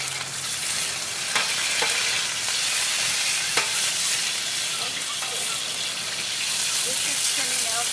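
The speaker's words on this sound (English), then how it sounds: "Now this is getting seared. We want it nice and gold, a nice golden brown." Paella ingredients searing in a hot pan, a loud continuous close sizzle and crackle with a few scattered clicks of a utensil against the pan.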